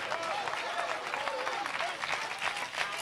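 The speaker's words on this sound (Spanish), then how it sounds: "yo voy a aplaudir por usted en esta noche" A church congregation applauds during an evening service, with dense, continuous clapping from many hands throughout and voices blending into the crowd noise.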